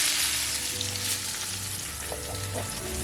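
T-bone steak sizzling in a hot pan, a dense, crackling fry hiss running continuously and up close, with a few low clicks and clunks beneath.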